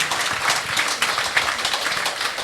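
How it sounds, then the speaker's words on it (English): A live audience gives a round of applause at an on-stage talk with motorcycle racers, dense and even clapping sustained across the whole moment with no voices over it. "I think we'll give him a round of applause."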